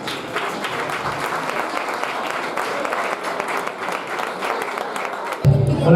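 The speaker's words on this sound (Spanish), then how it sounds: "Por favor, un aplauso para él." Audience at a club's tenth-anniversary synchronized swimming gala breaks into dense, continuous applause that fills the room evenly, then cuts off abruptly near the end as a voice begins.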